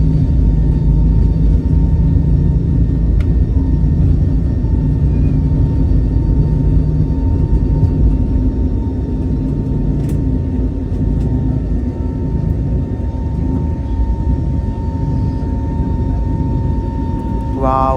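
Passenger jet taking off at night from Hyderabad airport, heard from inside the cabin as a loud, continuous low engine roar with a steady hum, unchanging for the whole stretch.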